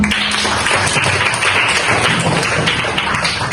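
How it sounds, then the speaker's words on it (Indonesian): Classroom applause for student groups, a steady dense patter of hand clapping filling the room throughout, with no voices standing out. "tepuk tangan untuk hari ini"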